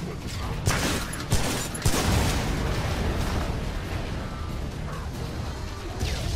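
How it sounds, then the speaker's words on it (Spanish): Explosions in the video game Shadow Warrior fill the mix with loud, dense rumbling, with a few sharp bursts near the start over continuous heavy noise. "¿Los mató la explosión?"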